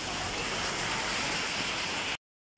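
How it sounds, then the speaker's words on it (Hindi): Heavy rain pours steadily during a storm with strong wind, a dense continuous hiss heard up close and loud, cutting off abruptly near the end. "इधर बारिश हो रही है जी इतनी तेज किस्म की"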